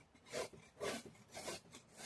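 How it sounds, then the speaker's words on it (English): A tool scrapes wet grass off the underside of a John Deere D130 mower deck in four rough, rhythmic strokes, heard close and fairly quiet. "We're going to use this right here just to kind of scrape off all of this wet grass."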